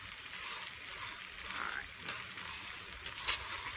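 Bacon and bread sizzle in grease on a griddle, a steady close crackling hiss throughout with a few brighter pops.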